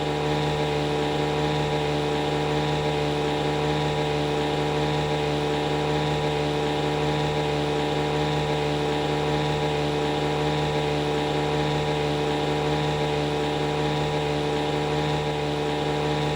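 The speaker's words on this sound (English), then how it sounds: "It's just basically a two-stroke, that's why it sounds like a lawnmower." A two-stroke engine in the video game My Summer Car drones steadily like a lawnmower, a loud, unbroken buzzing hum that holds constant pitch for the whole stretch with no talking.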